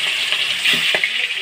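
Fish slid into smoking hot oil, a steady bright sizzle of frying throughout with a couple of soft splashes or clinks as pieces go in, no talk.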